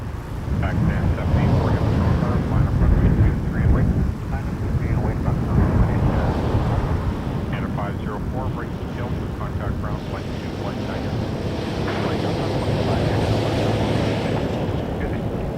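A Boeing 747-400 freighter comes in to land at Toronto Pearson, its heavy engine roar steady and rumbling throughout, while someone talks over it.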